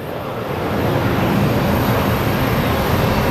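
A Boeing 737 airliner departing Phoenix Sky Harbor Airport, a loud broad engine roar that swells in over the first second and then holds steady.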